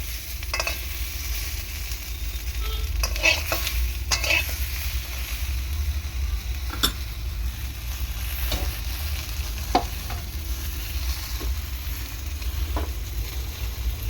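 Eggplant frying in oil with salt for a Bengali fish dish, a steady close sizzle throughout with occasional spatula scrapes and taps against the pan as it is stirred.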